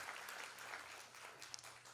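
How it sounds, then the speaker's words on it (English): Steady applause from an audience, a dense wash of clapping that stays fairly even and moderately quiet for a couple of seconds. "Another round of applause."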